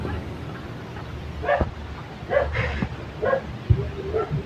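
A dog gives several short, separate barks with pauses between them, fairly close, over a quiet background.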